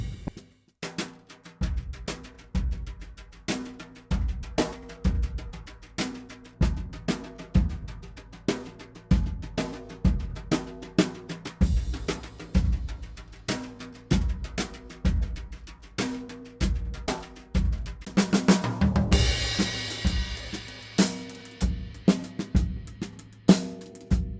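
A full drum kit heard through overhead microphones, including a single AKG C414 mono overhead, plays a steady groove, kick and snare hits under wide cymbal wash, with a louder crash swell near the end.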